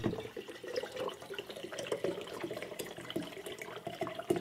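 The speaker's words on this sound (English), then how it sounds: "Add vinegar to container." Vinegar poured into a container, a steady, faint trickle of liquid running continuously at close range.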